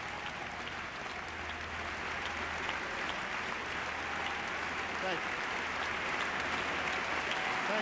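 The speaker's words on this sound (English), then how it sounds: "Then we have another introduction, another round of applause" Sustained audience applause at a televised anniversary gala fills the room steadily, a dense wash of clapping from a large crowd with a few voices mixed in.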